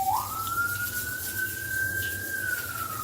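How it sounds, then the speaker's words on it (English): An ambulance siren passes at a distance, one long rising and steady wail heard faintly over low traffic rumble. "Maybe you can hear the siren going by."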